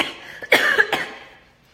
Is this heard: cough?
yes